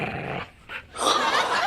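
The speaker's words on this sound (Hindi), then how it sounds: "और फिर वो कुत्ता" Dog growling from a dog squad scene, a close low rumbling growl, a brief pause, then a louder harsher snarl.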